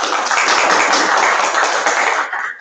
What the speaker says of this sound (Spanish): damos un fuerte aplauso al licenciado